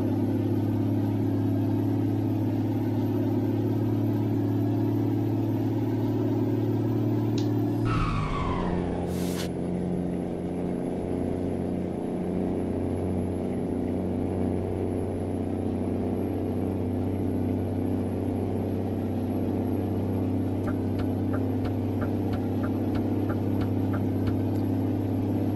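A truck engine in Euro Truck Simulator 2 drones steadily with a deep, even hum. A brief whoosh and shift in tone marks the moment it pulls harder, then the loud, constant engine note carries on.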